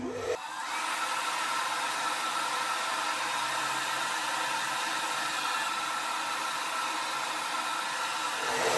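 A hair dryer heating a synthetic wig blows steadily and loudly for several seconds, a constant broadband whoosh with no talking, cutting off abruptly at the end.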